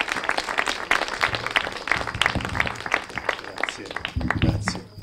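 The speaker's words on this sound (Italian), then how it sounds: "Signori, un applauso," An audience applauds a poet from Ischia at an outdoor event on a vineyard estate, a dense and steady burst of many hands clapping close by that runs throughout, with voices mixed in.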